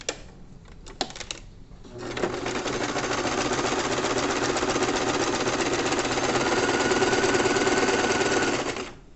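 A sewing machine runs a zigzag finishing stitch along the lining of a crochet bag, starting with a few sharp clicks, then a continuous close mechanical whir with rapid needle rattle that holds steadily for about seven seconds before stopping.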